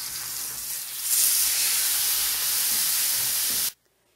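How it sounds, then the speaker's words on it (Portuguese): Beef sirloin sears in a hot pan, giving a loud, steady sizzling hiss that runs continuously for several seconds before cutting off abruptly. "Na verdade, aqui eu tô apenas selando a carne."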